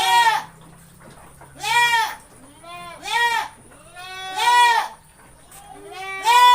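Goats in a farm goat pen give five loud, wavering bleats at regular intervals, close by, with quiet pen noise in the gaps between calls.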